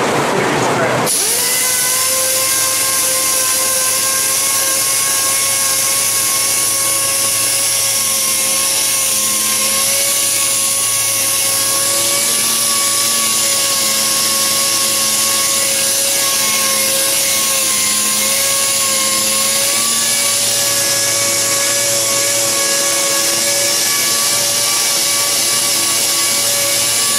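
Sandpaper rubs against the plastic lens of an Acura RSX headlight during restoration, a loud, continuous abrasive hiss with steady whining tones that runs for the whole span, with no speech.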